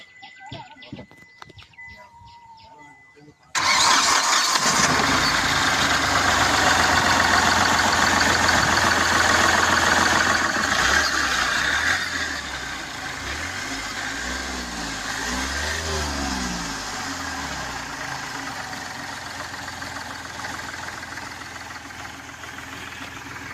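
An engine cranks and catches after a few seconds of quiet, revving loudly before settling into a steady, rumbling idle; faint birds chirp in the background.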